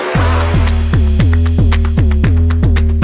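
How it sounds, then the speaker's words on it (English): Punchy 808 bass hits thump in a steady repeating pattern with sharp percussive ticks on top, loud and upfront, no voices. "Do you want to know how to make your 808s hit harder and thump more and sound something like this?"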